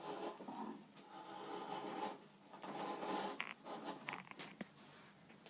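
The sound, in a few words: sharp tool cutting thick wood shavings from classical guitar neck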